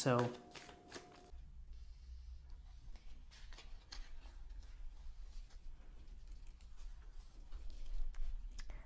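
Tarot and oracle cards shuffled by hand in a brief burst of rapid riffling, close and crisp, followed by quiet low background hum.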